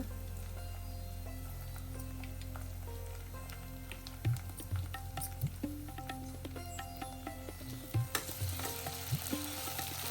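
Curry leaves and ginger-garlic paste fry in hot oil with green chillies for bagara rice, giving a faint continuous sizzle broken by a few soft stirring clicks and pops.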